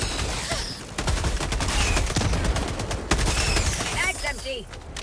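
Rapid automatic gunfire from a video game battle against bugs at a tunnel breach, dense bursts of shots running nearly continuously and loud up close, with a sharp burst near the middle and a voice speaking briefly over the firing.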